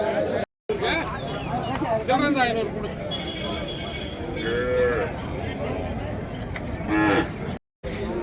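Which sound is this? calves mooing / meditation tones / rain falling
calves mooing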